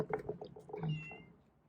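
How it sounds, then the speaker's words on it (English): A house cat meows indoors, a few short close cries followed by a longer drawn-out meow that fades away, with no talk over it. "Cat's meowing."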